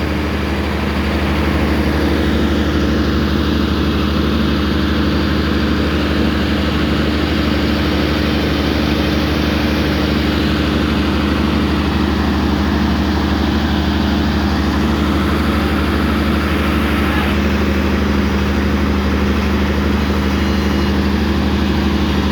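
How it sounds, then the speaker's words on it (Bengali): Heavy pile-driving rig at a construction site near Dhulipara Chowmuhani in the Comilla EPZ area running steadily while lifting a pile into place, a loud continuous low diesel drone throughout with no talk. "এখান থেকে পাইল উঠানো হচ্ছে, এটা মেশিনে সেট করার পরে তারপর পাইলটা ড্রাইভ করা হবে।"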